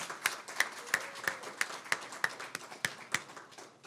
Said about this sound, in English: So again, one last round of applause for John, Shahzad, and Robin.